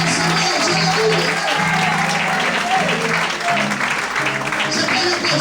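A church congregation applauding steadily, a dense continuous wash of clapping with voices calling out and singing tones underneath throughout.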